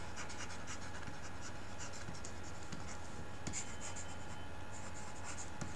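Writing on a board makes faint, steady scratchy strokes in a quiet room, with a low constant background hum and no talking.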